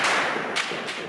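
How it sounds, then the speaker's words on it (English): Gunfire during nighttime clashes in Tripoli: three sharp distant cracks about a quarter second apart, echoing in open air with no talk. "the sound of gunfire is clear"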